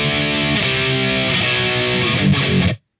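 A distorted electric guitar plays a heavy power-chord riff, loud and dense for under three seconds before cutting off abruptly.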